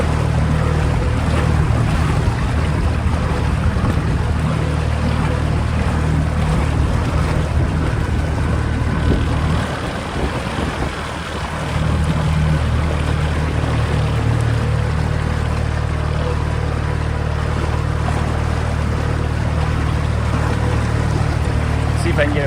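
A small motorized dinghy cruises across open water in the evening, its steady low engine drone running continuously with wind and water noise, dipping briefly midway before resuming.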